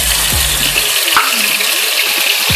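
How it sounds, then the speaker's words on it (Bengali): Marinated chicken pieces for doi murgi, a Bengali yogurt chicken, fry in a pan with a loud, steady sizzle and a few stirring scrapes. "এবার আমি ভালো করে নেড়ে চেড়ে ফ্রাই করে নিচ্ছি।"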